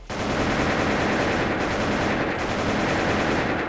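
Rapid, dense gunfire in the game Wolfteam rattles continuously and loudly, a nonstop automatic burst with no pauses.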